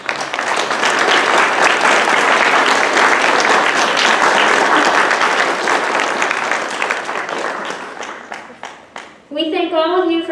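An audience applauds honor society inductees at an evening induction ceremony, with steady, loud clapping from a crowd that holds for several seconds, then thins and tapers off as voices emerge at the end.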